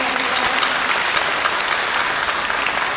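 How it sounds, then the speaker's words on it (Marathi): Energetic audience applause for Savitribai Phule at a Nashik police commissionerate birth-anniversary event, dense continuous clapping filling the room at steady loudness. "एकदा सावित्रीबाई फुलेंसाठी सर्वांनी जोरदार टाळ्या या ठिकाणी"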